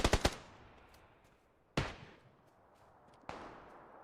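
Gunfire in a PUBG match: a rapid burst of three sharp shots at the start, then two more single cracks well apart, each ringing out with a reverberant tail over quiet background.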